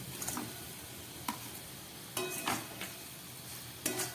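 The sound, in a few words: fried lata fish added to masala and stirred in pan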